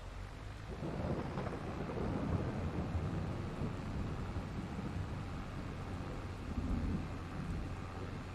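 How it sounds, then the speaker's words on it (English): A stormy thunder rumble rolls on with gusting wind and rain in Farming Simulator 22, a dense, continuous roar at moderate level with no speech. "Very nasty sounding storm, isn't it?"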